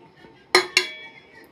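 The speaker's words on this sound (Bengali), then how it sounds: "এখানে বাটিটা বসিয়ে দিলাম।" Two quick clinks as a bowl is set down on a kitchen surface, a sharp ceramic knock followed by a second slightly softer one a moment later, close and clear against quiet.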